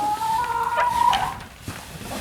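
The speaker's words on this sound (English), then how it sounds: "I'll meet my lady chickens." Red Star sex link hens in a backyard coop give close, loud clucking and a drawn-out warbling call, followed by softer scattered clucks and rustling.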